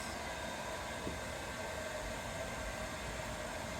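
A hair dryer blows steadily at close range during window tinting on a 2022 Lucid Air, a continuous loud whooshing roar that never lets up.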